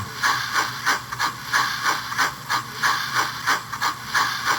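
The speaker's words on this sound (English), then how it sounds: "I don't want to burn up my little motor. I'll take it up to 11." A small model train motor runs on a test stand, giving a steady mechanical whir with a regular ratcheting, clicking pulse of about two beats per second, close and alone.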